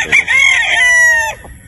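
A gamecock at a raffle crows once, loud and close, a single drawn-out cock-a-doodle-doo lasting over a second, clear and alone.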